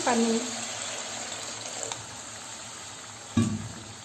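Water pours into frying masala for egg curry with a rushing splash at the start, then a hissing bubble as the liquid settles and a second brief splash near the end, with a voice speaking briefly.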